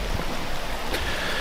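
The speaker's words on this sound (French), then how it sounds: "Il pleut." Steady rain falls in a close, continuous broadband hiss with soft patter and no talking.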